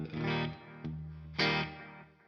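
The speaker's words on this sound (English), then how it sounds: "so you can hear those repeats very slightly, and a little bit of space from the room reverb" Electric guitar played through a Beetronics Octahive fuzz pedal with a quick Adriatic delay and room reverb, two distorted chord strums with a short pick hit between, each ringing out with faint repeats and a touch of space.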